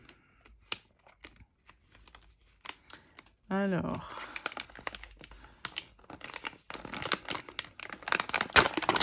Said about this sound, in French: on va employer la bonne vieille méthode des ciseaux